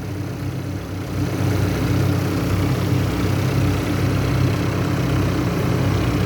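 Tractor engine idling during refuelling, a steady low rumbling drone held at a constant level throughout.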